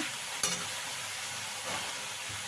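Potatoes fry with turmeric powder in oil while being stirred for a no-onion, no-garlic aloo dum, a faint continuous hiss and crackle with one brief clink of a utensil near the start.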